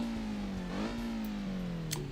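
A Nissan Primera engine in BeamNG drives a steady mid-pitched drone that rises and falls through a brief rev, heard close and alone at a moderate level.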